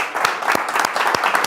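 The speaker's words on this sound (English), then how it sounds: "I would love you to have a big round of applause" An audience at a .NET meetup claps together, a dense stretch of applause with a few sharper individual claps standing out, close and steady with no talk over it.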